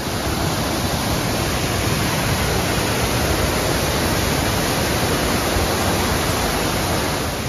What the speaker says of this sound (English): Look at the vapor coming off of that waterfall.